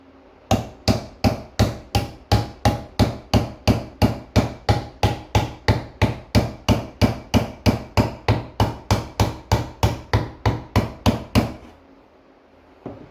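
Steady hammer taps drive a wooden wedge into the eye of a 1950s Plumb Dreadnaught axe handle: about thirty-five sharp, evenly spaced knocks, close and loud, stopping abruptly near the end.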